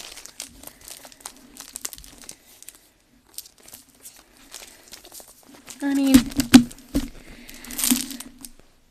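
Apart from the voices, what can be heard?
crunchy crinkling of a Dollar Tree photo album DIY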